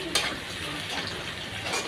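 Country chicken sizzles and fries in a pan with spices over a clay stove, a short close crackle with faint stirring scrapes.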